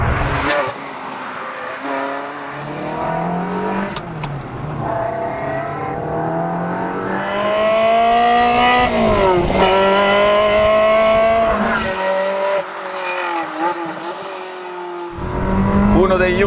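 Ferrari 360 Modena with a six-speed manual gearbox driving, its engine rising and falling through revs with gear changes, loud and close inside the car, while someone talks over it.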